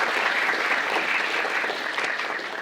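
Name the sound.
audience applause at an academic award ceremony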